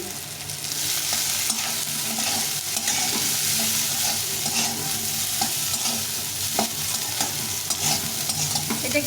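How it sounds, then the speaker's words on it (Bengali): Chopped cabbage stir-fried in oil in a hot wok for vegetarian chow mein gives a steady, close sizzle with scraping stir strokes throughout, and no one talks. "এখন আমি এই বাঁধাকপিটা দিয়ে দেবো এটা একটু কুচিয়ে রেখেছিলাম এটাকে"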